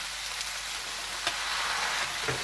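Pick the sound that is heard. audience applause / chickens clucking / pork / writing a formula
pork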